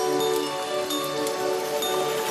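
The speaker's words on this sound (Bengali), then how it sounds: "রাত থেকে দফায় দফায় বৃষ্টি" Steady rain falls on a rainy day in rural West Bengal farmland, a continuous even hiss of drops without breaks or voices.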